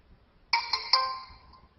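A phone ringtone plays three quick bright chime notes in a rising pattern, then a ringing tail fades out, heard alone and fairly clear.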